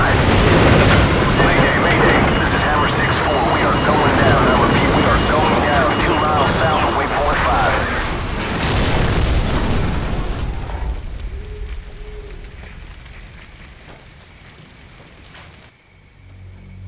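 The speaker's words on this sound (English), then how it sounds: "Incoming missile!" A missile explodes in the video game Call of Duty 4 Modern Warfare: a loud, roaring blast with heavy rumbling debris that fills the first half, then dies into a quieter rumble and ambient tail.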